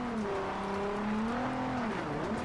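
Racing-game car engine from Forza Horizon 2 while drifting, a steady loud drone with gliding pitch that rises and falls as the car slides, continuous with no voices.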